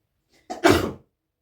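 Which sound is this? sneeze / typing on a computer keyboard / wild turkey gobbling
sneeze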